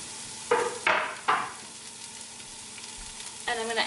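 Onions tipped into a pot of olive oil on high heat give several sharp bursts of loud sizzling, close by, with a quieter steady frying hiss in between and one more crackling surge near the end.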